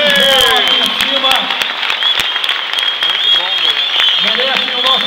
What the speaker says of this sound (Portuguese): quero pedir a vocês uma salva de palmas para os dois lutadores